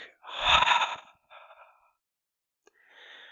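A deep, audible exhale in a beginner yoga breathing practice: one long loud breath out, then two softer, airy breaths after brief pauses, all close to the microphone with no talk.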